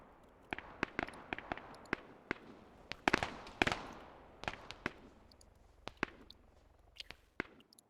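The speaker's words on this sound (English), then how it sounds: "I'm gonna start putting mortars up there" Mortars fire in a strategy video game as a string of sharp, punchy reports, some single and some clustered, with a brief denser volley in the middle.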